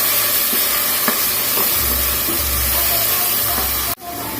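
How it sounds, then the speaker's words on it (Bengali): Garlic paste fries in hot oil in a pan, giving a loud, steady sizzling hiss with a few soft stirring clicks. The sizzle drops out abruptly near the end, then resumes. "এখন আমি এখানে 1 চামচ, এই ছোট চামচে 2 চামচের মতো আমি এখানে রসুনের পেস্ট দিয়ে দিলাম।"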